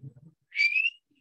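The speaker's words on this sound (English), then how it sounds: "You got the whistle skills." A person whistles a single rising, sustained note of just under half a second, close and clear, after a brief murmur of voices at a morning team meeting.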